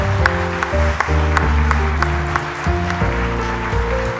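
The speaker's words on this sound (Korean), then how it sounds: "하나님께 영광의 박수를 한번 돌립시다." A church congregation at a Christmas Day service claps in a steady rhythmic beat over loud sustained instrumental music.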